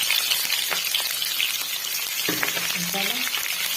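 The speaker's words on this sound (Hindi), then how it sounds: "पियाज को आम लाल लाल कर भल से फ्राए करवा" Onions fry in hot oil in a home kitchen, a dense continuous sizzle with soft stirring scrapes and a faint voice in the background near the end.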